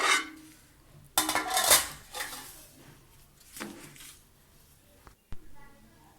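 Metal pot and lid, used as a makeshift baking oven, clatter and clink in a few sharp bursts separated by quieter handling noise, with a voice talking in between.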